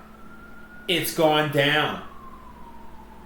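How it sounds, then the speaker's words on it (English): A faint, distant siren wail drifts in the background while a person talks loudly over it. "You can hear the sirens outside."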